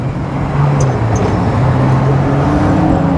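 Cars race past close by on a road, a loud continuous rush of engine and tyre noise with no clear gaps between vehicles.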